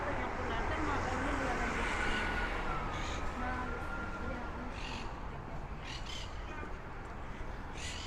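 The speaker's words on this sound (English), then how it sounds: "You can hear the parrots." Parrots call in street trees in Brooklyn, harsh squawks rising in short bursts over steady loud traffic and city noise, fairly distant.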